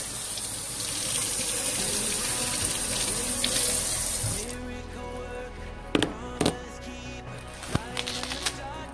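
Tap water runs into a kitchen sink while vegetables are rinsed for a spicy cabbage soup, a steady gush for about four and a half seconds, then stopping, followed by a few clunks and handling sounds.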